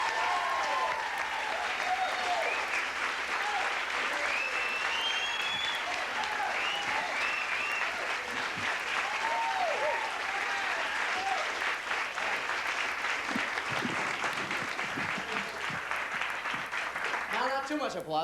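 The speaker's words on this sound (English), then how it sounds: "Too much applause." A comedy club audience applauds steadily as a comedian takes the stage, a sustained wash of clapping lasting close to twenty seconds with scattered whoops and cheers rising over it.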